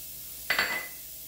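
A cup of diced onions drops into a hot pan with a sudden hiss that flares briefly, then fades within half a second over a quiet room.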